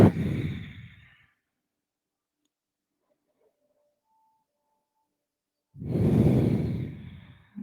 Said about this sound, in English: Take a couple of deep breaths.